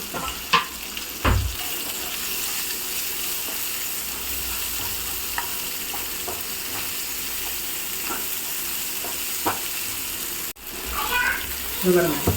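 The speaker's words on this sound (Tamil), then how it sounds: "இந்த வெங்காயத்தை வந்து இதில் போட்டுடலாம்." Sliced onions sizzle in hot oil in a pan as they begin frying for a prawn fry, a steady loud crackling hiss with occasional stirring knocks and a few sharper clatters near the end.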